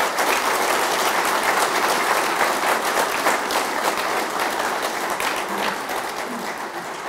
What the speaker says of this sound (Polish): bardzo gorące brawa się należą za to